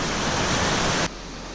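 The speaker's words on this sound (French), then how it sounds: "Ça y est, on est arrivé aux premières cascades." River cascades give a loud, dense rush of falling water that fills the sound, close by, then drops abruptly to a softer steady roar partway through.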